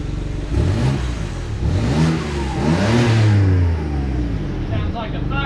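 BMW 335i with an N54 engine misfiring, idling and revving with a rough, uneven, tractor-like chug. Someone talks loudly over it throughout.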